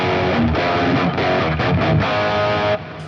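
An electric guitar with humbuckers played through a Marshall JCM800 amp rings out loud and distorted, a few sustained chords and notes with a smooth, liquid tone that cuts off near the end.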